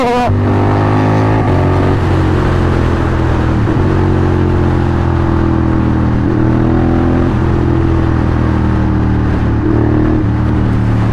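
A Ducati Monster 795 motorcycle engine fitted with a Translogic quickshifter runs loud and close, its steady drone rising in pitch through repeated quick upshifts with brief dips between gears.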